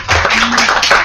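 An audience claps briefly at a jiu-jitsu talk, a short dense burst of hands that is loud and close for about a second.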